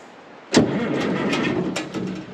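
An old engine, left in the woods for years, catches and fires abruptly, then runs with a rough, loud mechanical roar that carries on steadily to the end, with a few louder pulses mixed in.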